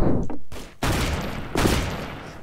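Hand cannon fire in the Roblox game Arsenal: three loud, heavy shots at about half-second to one-second spacing, each with a booming tail, and no talk.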